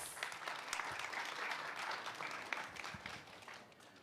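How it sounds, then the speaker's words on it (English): Audience applause welcoming host Kyle Chan of Business Next Media onstage at an open innovation business event, a short, moderately distant wash of clapping lasting a few seconds without talk. "Let's give him a round of applause."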